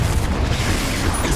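A Confringo fire blast spell from Hogwarts Legacy bursts as a loud, continuous booming rumble with a heavy low-end roar that fills the whole moment without pause.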